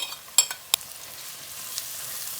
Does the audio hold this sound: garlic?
yes